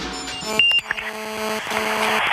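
Phone dialing tones, a string of short electronic beeps at steady pitches, run for about two seconds over faint background music with no talking.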